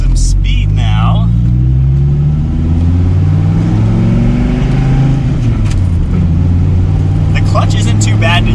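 A low-mileage Dodge Viper with a manual clutch accelerates loudly from inside the car, its engine note rising through a gear, easing briefly and climbing again.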